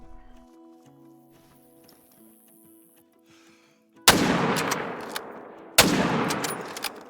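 Two loud rifle shots ring out at mule deer in the Call of the Wild hunting game, each a sharp crack followed by a long rolling echo, after a quiet stretch of ambient outdoor sound.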